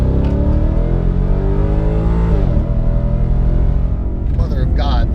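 A Ford Mustang, S550 generation, accelerates hard in second gear, its engine roaring loud and continuous close by as revs climb, with a voice briefly heard over it near the end.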